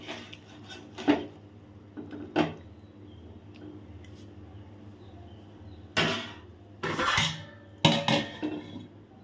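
Bhetki fish pieces go into a simmering curry pot in a home kitchen and the lid goes on, giving scattered metallic clinks and clatters of utensils and lid with quiet gaps between them.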